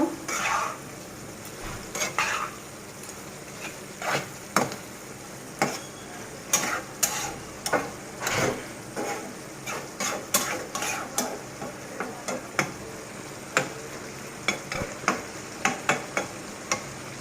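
Shrimp curry with taro stolon and jackfruit seeds is stirred in a pan, a rhythmic series of spoon scrapes and clinks against the metal over a low simmering sizzle; no one speaks.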